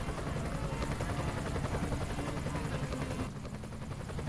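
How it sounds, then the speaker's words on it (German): Continuous chopping rotor drone of a police helicopter in the video game Emergency 2016, loud and steady throughout with no voices. "Polizeihelikopter bringt den Gefangenen zu den Arrestzellen in der Basis."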